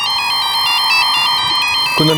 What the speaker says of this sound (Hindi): कुंदन का फोन स्विच ऑफ।